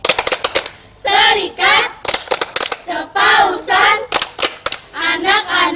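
Children's mission group members perform the 'tepuk sekami' clapping chant: crisp bursts of rhythmic hand claps, close and loud, alternate with sung chanting voices in a repeating pattern.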